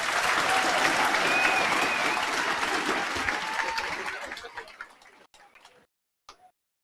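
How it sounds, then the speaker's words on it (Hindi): Audience applause after a talk by an RAS rank-five topper, a dense burst of clapping from a crowd that gradually thins and fades, leaving a few scattered claps at the end. "सर के लिए एक बार जोरदार ताली वापिस।"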